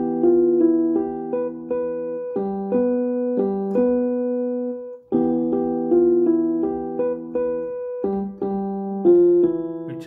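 Electronic keyboard playing the tune Li'l Liza Jane starting on E using only white keys, a clear sequence of sustained, organ-like notes in a bouncy melodic rhythm with a brief pause midway, close and alone without talking.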